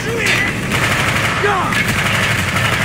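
Automatic-weapon fire in Call of Duty: Black Ops, a dense continuous clatter of shots throughout, loud and close, with a few brief higher whines layered over the barrage.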